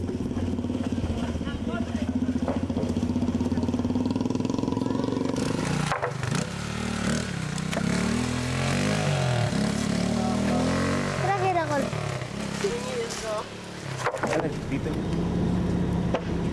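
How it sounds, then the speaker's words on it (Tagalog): Motorcycle loaded with products, a steady close engine drone that shifts pitch as it moves, with wooden clatter and scraping, under a narrator's voice. "Isinakay naman ng isang motorsiklo ang mga produkto."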